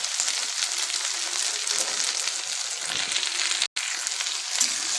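Okra fries with turmeric and salt in a pan, giving off a steady, close hiss of sizzling broken by one brief dropout near the end.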